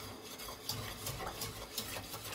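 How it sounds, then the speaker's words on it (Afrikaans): Soft, faint stirring of macaroni in a pot of water coming to the boil, with gentle scraping strokes against the pot over a steady low hiss. "So ek roer hom so nou en dan, tot hy begin kook"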